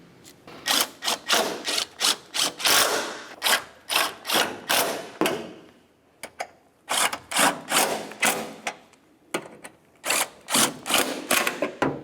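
A hand ratchet tightens the cowl mounting bolts on a 2009-2010 Pontiac Vibe in rapid, close clicking bursts: two long runs of sharp ratcheting separated by a short pause, with no talking.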